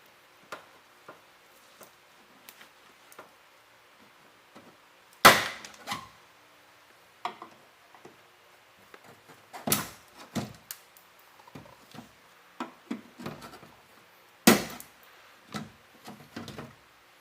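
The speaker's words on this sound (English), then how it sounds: "you should be able to get a screwdriver behind here and pop this speaker off" A screwdriver prying a speaker out of a Scion xB car door panel after the rivet heads are drilled off: scattered sharp clicks and ticks, with several louder plastic snaps and cracks, close up and without talk.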